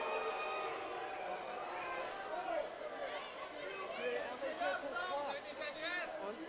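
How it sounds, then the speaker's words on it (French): A crowd at a street demonstration in Saint-Denis shouts and cries out as riot police move off with their shields, a noisy babble of many distant voices with scattered yells, alongside a nearby person talking. "On entend boue, on entend beaucoup de cris dans la foule."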